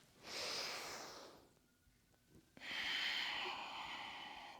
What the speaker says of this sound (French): J'inspire. Et j'expire, je descends. Inspire. Expire.